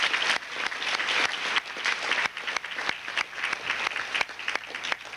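Audience applause fills an awards banquet hall, a dense steady wash of many hands clapping at moderate distance with a few sharper claps standing out, no voices over it.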